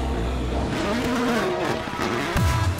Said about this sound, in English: Mikkelsen threads his car down the treacherous mountain road